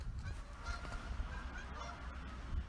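A flock of geese honks repeatedly at a moderate distance, overlapping calls forming a steady, fairly quiet chorus over low background rumble.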